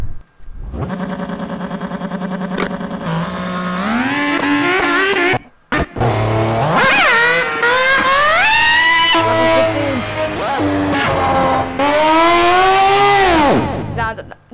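Loud engine whine rises and falls as a car revs and shifts in the racing video game Project CARS, with sustained screeching tones like tires sliding through drifting turns, brief cutout midway.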